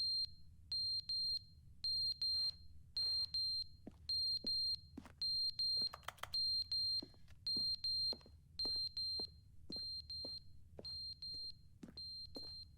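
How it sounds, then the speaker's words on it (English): An alarm clock in The Stanley Parable video game beeps in steady repeating bursts of high electronic tones, evenly spaced over a faint low hum, with a few soft clicks and no voices. "We got an alarm, clock on the floor."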